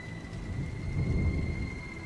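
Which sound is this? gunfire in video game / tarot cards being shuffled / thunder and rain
thunder and rain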